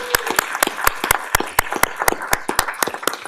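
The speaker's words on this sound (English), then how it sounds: "let's give them a round of applause for this" A modest audience at an Augusta commission meeting gives a round of applause, with distinct, fairly close claps in an uneven rhythm from a small group.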